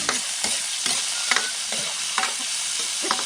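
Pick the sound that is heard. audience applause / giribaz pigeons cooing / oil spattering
oil spattering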